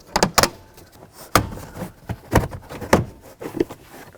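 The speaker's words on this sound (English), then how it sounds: "Now you can pull the panel down." Several sharp plastic clicks and knocks as a trim panel under the dashboard of a 2001-2007 Volvo V70 is pulled down, irregular and close, with no talking.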